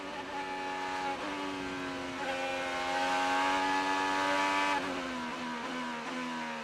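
Onboard sound of the number 7 IndyCar race car during a race at The Thermal Club, the engine screaming at high revs with sharp gear shifts, rising and falling pitch, loud and close.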